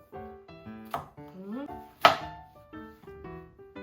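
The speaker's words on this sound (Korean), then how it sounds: "진짜 얇게 잘라야 돼요." Knife slicing cucumber or beef on a cutting board in a home kitchen, with several soft, irregular thunks while adults talk nearby.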